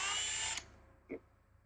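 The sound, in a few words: step drill drilling a hole for a connector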